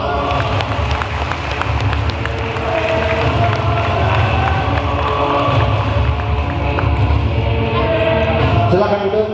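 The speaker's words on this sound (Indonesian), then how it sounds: "Tepuk tangan," Applause from a seminar audience, a dense, steady patter of many hands filling the room at close range, mixed with crowd murmur and a few cheers.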